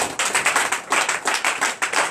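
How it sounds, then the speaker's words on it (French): Rhythmic, loud clapping in unison from a church congregation during a night deliverance service, quick regular beats repeating steadily without pause. "Donnez l'acclamation"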